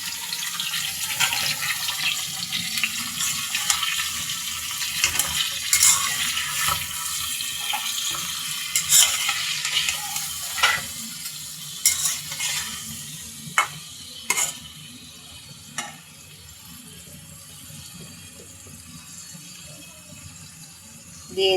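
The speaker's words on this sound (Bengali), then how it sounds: "আমি আলু এবং বরবটিটাকে একটু ভেজে নেব।" Potatoes and yardlong beans fry in a pan with a steady sizzle, broken by occasional scraping and clinking as they are stirred, close and moderately loud with no talking.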